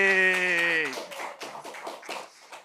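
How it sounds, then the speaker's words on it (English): A conference audience breaks into brief, scattered applause after a talk, opening with a single cheering voice before a couple of seconds of patchy clapping. "first we can applaud"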